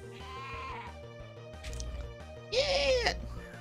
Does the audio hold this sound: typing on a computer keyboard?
no